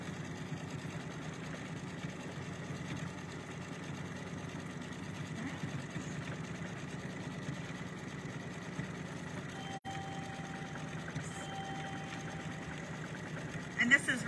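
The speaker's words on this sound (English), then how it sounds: "This is why we have embroidery machines." An embroidery machine stitches out a design, giving a steady mid-level mechanical hum with a fast running rhythm throughout, a brief dropout near the end, and faint background talk.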